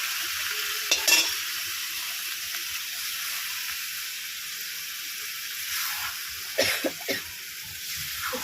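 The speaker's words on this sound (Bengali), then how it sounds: "এবার আমি এই যে পুঁই শাকটা যে সেদ্ধ করে রেখেছিলাম এটা এখানে দিয়ে একেবারে চিংড়ি মাছ টমেটো দিয়ে" Boiled Malabar spinach with shrimp and tomato is stirred in a pan, producing a soft, quiet sizzle with a few scraping stirs and brief knocks.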